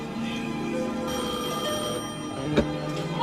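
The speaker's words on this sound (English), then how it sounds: "Answer that phone." A telephone bell rings continuously through a radio show segment, its repeated trilling tone steady and fairly loud, with no voices over it.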